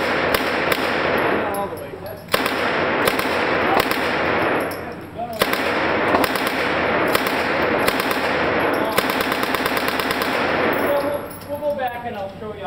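An Uzi submachine gun fires full auto at an outdoor shoot in Michigan, loud repeated bursts of rapid gunfire separated by brief pauses, with people talking faintly underneath.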